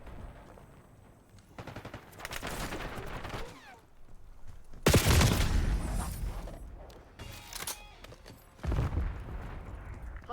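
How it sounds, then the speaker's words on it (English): A frag grenade explodes in a first-person shooter match, a sharp loud blast around the midpoint, surrounded by rattling bursts of automatic gunfire and another heavy impact near the end. "Throwing frag."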